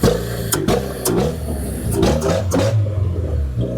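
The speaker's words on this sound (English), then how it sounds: "Give it a rev." A car engine revs hard several times, a rough, throaty roar rising and falling close by, with no talking.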